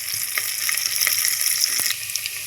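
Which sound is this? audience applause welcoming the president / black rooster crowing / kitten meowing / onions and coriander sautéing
onions and coriander sautéing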